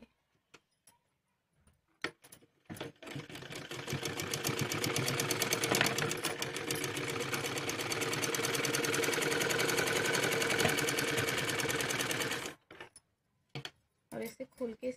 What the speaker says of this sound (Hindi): यहाँ पर सिलाई लगा लेंगे